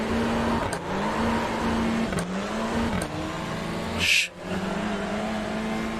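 Audi race cars launch off the start in the iRacing simulator, a steady engine drone with rising and falling pitch as gears change, a brief hiss near the end, at moderate level with no talk.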